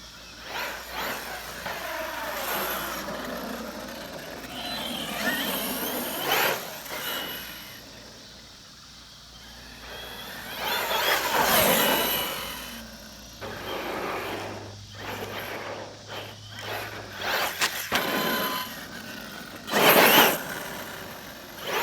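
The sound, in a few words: Arrma Kraton EXB RC car driving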